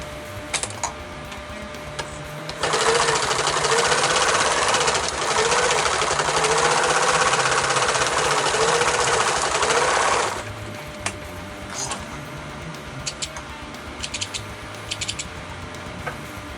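A sewing machine runs steadily for about eight seconds, stitching elastic and webbing onto a 50L rollup backpack, with a loud continuous whirring rattle framed by a few short starts and clicks.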